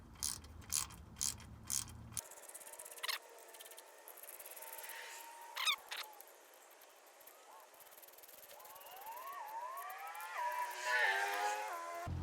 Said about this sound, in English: Now you're just going to start tightening them up.